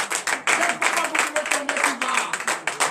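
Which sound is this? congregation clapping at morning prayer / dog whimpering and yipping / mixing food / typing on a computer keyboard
congregation clapping at morning prayer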